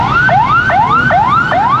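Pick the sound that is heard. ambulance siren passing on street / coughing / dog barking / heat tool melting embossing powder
ambulance siren passing on street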